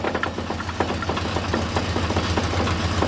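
A V8 Buick LeSabre left unused for 34 years idles up close, a loud, low rumble with a steady, slightly knocking pulse.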